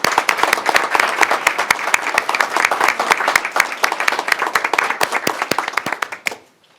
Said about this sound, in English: If we could give a big round of applause for all of them.